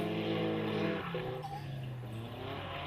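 Drift cars sliding together in a tandem drifting round at Mineral Wells, engines revving with falling and rising pitch and tires scrubbing, a steady loud roar throughout.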